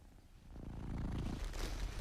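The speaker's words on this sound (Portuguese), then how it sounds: "E há o ronronar." A domestic cat purrs close by, a soft, continuous low rumble with a steady pulsing texture over about two seconds.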